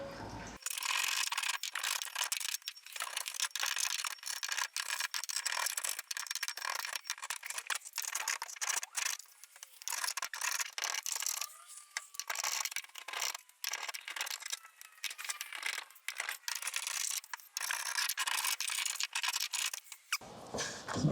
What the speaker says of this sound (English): we're going to have to try and scrape off as much of this as we can